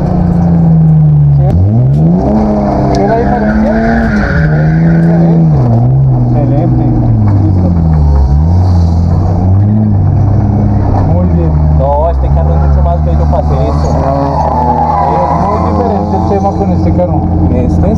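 A drift car's loud engine revs hard and continuously, pitch rising and falling as it accelerates, with voices talking over it throughout.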